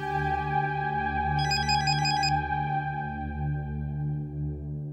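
A mobile phone ringtone plays indoors, a sustained melodic electronic tune with steady harmonic tones and a brief brighter trill partway through, alone without talk.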